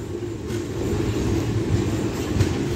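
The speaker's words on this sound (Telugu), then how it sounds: "మన ట్రైన్ ప్లాట్ఫామ్ నెంబర్ 1 పైకి వచ్చింది" The Sabari Express rumbles steadily into Nalgonda station's platform 1, a continuous low rolling drone of wheels and carriages with no voices.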